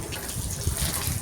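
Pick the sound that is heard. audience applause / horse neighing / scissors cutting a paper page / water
water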